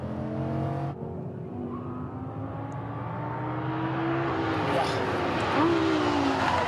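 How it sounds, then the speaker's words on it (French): A Lamborghini LP570-4 with steel brakes slows hard on a race track, its engine note dropping through tonal downshift sweeps and then rising again under acceleration, heard from inside the car with talk over it. "Le freinage hyper efficace, on est avec des freins acier ici, mais ça freine très très fort chez Lambo"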